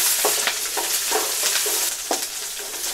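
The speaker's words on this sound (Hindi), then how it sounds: "अब हम इसमें कैप्सिकम यानी कि शिमला मिर्च मिलाएंगे और फिर 1 मिनट के लिए" Capsicum sizzles loudly in oil in a pan while a spoon stirs it, with steady frying crackle and several scraping strokes for the pasta masala, and no one speaking.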